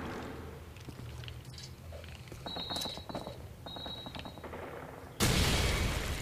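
Video game gunfire crackles in short automatic bursts amid clicking mechanical effects and electronic tones, ending in a sudden loud roaring blast that fills the last second.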